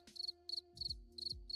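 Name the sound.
cricket chirping sound effect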